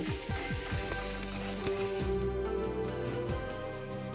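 Masala spices sizzle softly in a pan as they are fried down, a low continuous hiss with a few light knocks of stirring and no voices.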